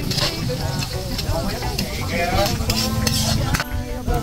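Garlic sautés in a hot pan with a continuous close sizzle and hiss, punctuated by scraping stirs and utensil clinks against the metal, while a voice talks over it.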